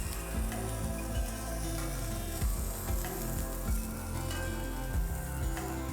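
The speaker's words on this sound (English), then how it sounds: "Lobsters are cooking." Lobsters in the shell broiling with butter, giving a continuous crackling sizzle with small pops and bursts, close and moderately loud, without talk.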